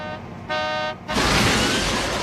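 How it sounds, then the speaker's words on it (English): Anime car crash into a police squad car: a harmonic horn-like tone briefly sounds, then a loud, broad crunching impact bursts in and sustains as noisy wreckage, close and dominant, no speech. "You just hit a squad car!"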